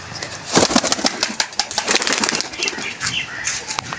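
A pair of Rampuri Kalpetia pigeons flap their wings in busy close bursts, with soft rustling and fluttering throughout.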